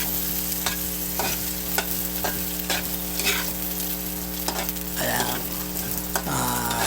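Onions sizzle in a pan with garlic while a utensil stirs them in quick, repeated scraping strokes over a steady frying hiss, and a brief voice is heard near the start.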